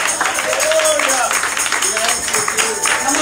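A church congregation claps along during a lively worship service, a dense, steady wash of hand claps under loud singing and voices.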